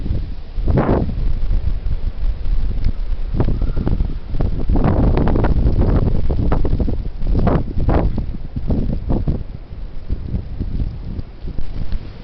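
Heavy wind blowing in an outdoor setting, with continuous loud buffeting roar and gusts beating against the microphone, rising and falling over the whole stretch with no voices.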